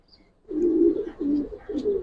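Pigeons coo in a loft holding old-breed Giribaz and Pagla Khaki birds, three close, clear low cooing phrases following a brief quiet start, with no talk.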